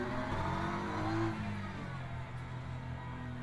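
Ferrari GT3 race car in Le Mans Ultimate on stone cold tyres, engine revving and accelerating with a steady droning tone and rising harmonics, moderately quiet and continuous.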